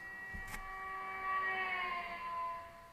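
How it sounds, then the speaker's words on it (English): Race car driving past with a Doppler pitch drop, heard as a faint whining tone that swells and slides lower as it passes, distant and quiet, with a brief click near the start. "The archetypical example of this is the sound of a race car driving past you."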